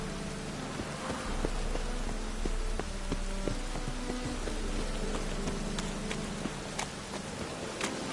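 Steady rain hissing with scattered sharp drop ticks on a surface, and a faint low hum underneath, with no voices.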